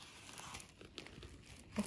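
Packaging paper from a dollar store being handled, with soft, scattered crinkles and rustles at a faint level and no talk.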